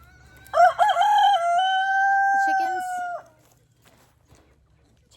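A rooster crows once, loud and close, a long sustained cock-a-doodle-doo lasting over two seconds, followed by faint quiet clucking and farmyard stillness.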